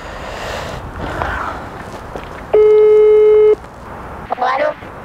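A telephone tone while placing a call, a single steady electronic beep about a second long, heard clearly after rustling and footsteps, followed by a short voiced sound.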